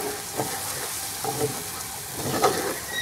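Eggs and tomatoes frying for a big breakfast, a soft steady sizzle broken by a few quick scrapes and knocks of stirring in the pan.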